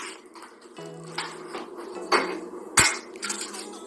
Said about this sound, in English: So, crack 1 egg.